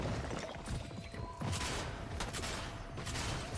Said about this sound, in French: il y a du monde qui tire au-dessus de moi